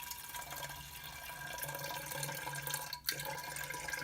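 Clear homemade wort is poured gently for home brewing, a soft, faint trickle of liquid running steadily close by.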